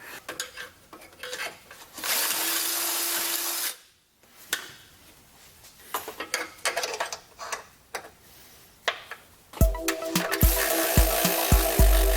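A drill bit boring through the metal body of a 1994-1997 Honda Accord during an engine and transmission install: two loud sustained grinding, whirring bursts, the second with a steady motor whine, between quieter clanks and rustling.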